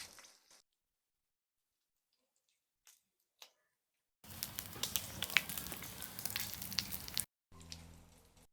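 An open cooking fire burns under a saj pan where lamb tail fat renders, giving a few faint ticks, then about three seconds of close crackling and sizzling, a brief pause and more crackle.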